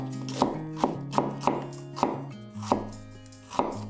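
A knife slices an onion thinly on a board, giving crisp close chops that come in an uneven rhythm about twice a second over steady background hum.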